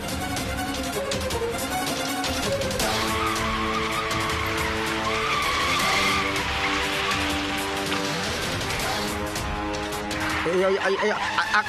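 A car driven fast in a Tamil television drama scene, tyres skidding and screeching over a loud engine and a dense music score, with voices speaking throughout.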